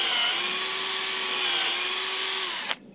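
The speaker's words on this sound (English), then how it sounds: "So we use the drill" A cordless drill boring about 2 centimetres into a tree trunk whines steadily at high speed for nearly three seconds, close by, then cuts off abruptly.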